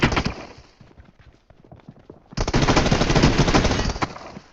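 Rapid automatic gunfire rings out in a multiplayer shooter video game, loud dense bursts at the start and a long sustained volley in the second half, with sparser shots in between.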